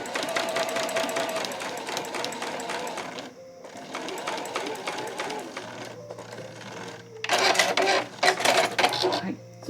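A home sewing machine stitches over the seam of a fabric frill scrunchie in close, fast rhythmic bursts of mechanical clatter, stopping briefly twice, with a low steady motor hum and a final louder run.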